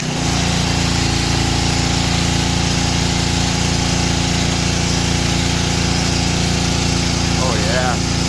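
A Ryobi 3100 PSI gas pressure washer runs loud and steady close by, its engine drone constant throughout with a brief higher whine near the end.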